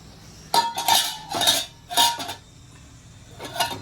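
A lid set onto a pan of freshly cooked bheja fry once the stove is off makes several close metallic clanks and rattles in quick bursts, then a lighter clink after a short pause.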